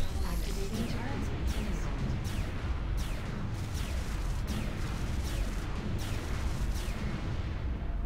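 Turrets firing in the XCOM strategy game, a loud, continuous barrage of booming shots and rapid impacts that rolls on without pause.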